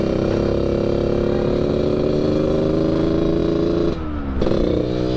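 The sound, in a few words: 2004 Yamaha RX King motorcycle with underbelly exhaust revving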